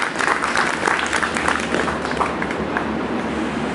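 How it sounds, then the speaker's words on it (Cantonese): Wedding guests clap warmly for the newlyweds, a dense, sustained round of applause from a roomful of people that carries on steadily throughout. "咁我哋再俾一次熱烈嘅掌聲俾呢對新人"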